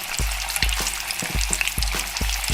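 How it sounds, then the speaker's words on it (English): Shrimp frying in hot oil give a loud, steady sizzle with crackling pops, broken by a few sharp knocks or stirs at irregular intervals, with no voices. "All this frying, and like my aunt says, when she floating, she done."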